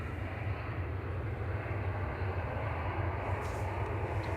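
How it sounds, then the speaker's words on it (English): Ryanair jet operated by Malta Air, arriving from Berlin at Manchester Airport, gives off a steady, broad engine roar that holds evenly throughout without pause, with no voices over it. "Ryanair from Berlin, operated by Malta Air 9HQDH with flight 1144."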